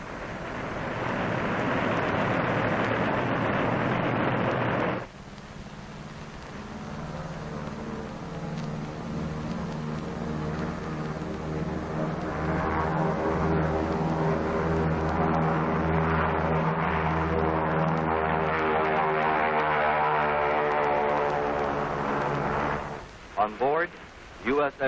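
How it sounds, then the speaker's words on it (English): Army Air Force pilotless drone aircraft take off during the 1948 Operation Crossroads atomic tests, a loud sustained engine roar that rises and swells, with a narrator talking over parts of it. "Army Air Force drones are preparing to take off."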